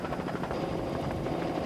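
A helicopter flies low over the sea following an offshore powerboat race, its rotor chop a loud, steady, throbbing drone that fills the whole short stretch on its own.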